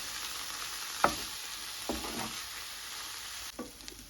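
Dried anchovy thokku with tomato and onion sautés in a pan, giving a steady close sizzle broken by a few sharp spatula scrapes and taps.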